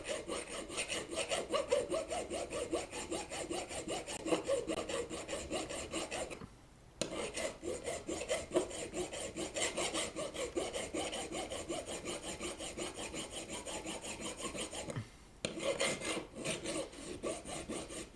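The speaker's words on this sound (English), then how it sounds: "Then I would file it to make a smooth end." A hand file strokes back and forth over a rod end to smooth it, a steady rhythmic rasping that keeps going for a long stretch with two brief pauses, close but fairly quiet.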